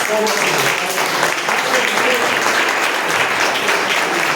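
Applause from a church congregation, steady and dense throughout with some speech-like sounds mixed in.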